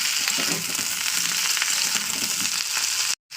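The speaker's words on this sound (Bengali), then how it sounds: "এখানে ফুলকপিটা ভেজে নিয়েছি তেলে" Cauliflower and chicken frying in hot oil, a loud, dense, continuous sizzle with faint stirring underneath, close up and uninterrupted until an abrupt cut at the end.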